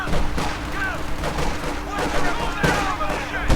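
Gunfire rattles through a World War II battle in Company of Heroes 2 during the Ardennes Assault campaign, with dense bursts and crackling shots blending into loud, busy combat noise.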